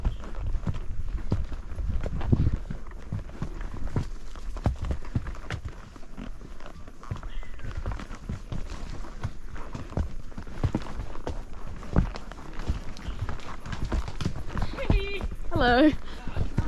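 Horses on a trail ride clip-clop along, their hooves making a steady run of close, uneven thuds and scuffs while people talk over them and a brief whistle-like call rises near the end.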